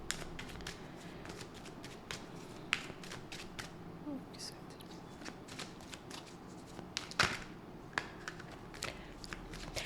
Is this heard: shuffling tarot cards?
yes